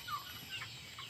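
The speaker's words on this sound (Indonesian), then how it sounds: "Lihat tuh ayamnya." Chickens in a backyard coop giving a few soft, faint clucks over a quiet background, no talk.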